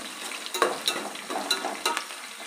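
Onions fry in a pan for egg fried rice with a close, crackly sizzle, and a few sharp stirring scrapes and clicks break through it now and then, with no voices.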